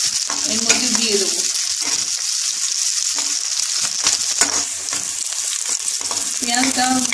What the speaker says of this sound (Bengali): নান নান ভাজা হলে আমি আলুটা এর মধ্যে দিয়ে দেব।